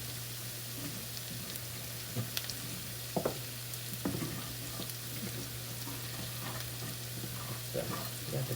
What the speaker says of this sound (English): So let it cook, and let it cook a bit longer so it browns.